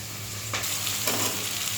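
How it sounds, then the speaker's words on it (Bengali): Onions fry in a pan for a meat dish, a steady sizzle that jumps louder twice as they are stirred, crackling close by with no talk. "পেঁয়াজটা ভাজা হচ্ছে"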